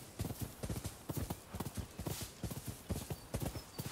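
Horse hooves clip-clop in Rise of the Ronin video game, a steady rapid galloping rhythm drawing near, fairly loud and continuous with no talk over it.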